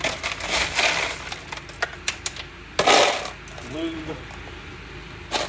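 Processed .223 brass cartridge cases, resized, trimmed and lube tumbled, clink and rattle together in a run of sharp metallic taps, with a louder jingling burst midway and another at the end, close and alone.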